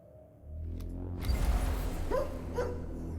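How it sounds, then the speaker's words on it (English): A dog barks a few times, fairly close, over a steady low background hum in the video game IXION, with no talking. "Oh, you heard the barking?"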